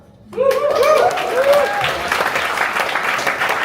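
An audience breaks into sudden, loud applause that holds steady as dense clapping, with a few whoops and whistles rising through it.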